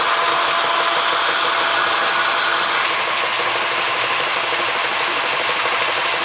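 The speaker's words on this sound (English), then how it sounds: "that engine there, that little motor, that gear motor, does 550 RPM" A small motor whirs steadily, a constant loud mechanical drone with a faint high whine that never changes pace.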